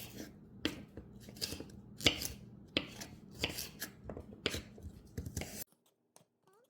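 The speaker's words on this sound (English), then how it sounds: "We're just gonna cut this in the thinner slices." Repeated crisp knife cuts slicing cabbage into thin slices, about ten strokes in a steady rhythm close by, then silence.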